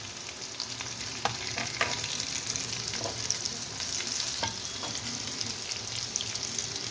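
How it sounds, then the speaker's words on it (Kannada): Potato pieces fry in hot oil for aloo dum biryani, giving a steady, dense sizzle with crackling pops and occasional stirring scrapes throughout, close and continuous with no talking. "ಆಲೂಗಡ್ಡೆ ಚೆನ್ನಾಗಿ ಫ್ರೈ ಆಗಿದೆ."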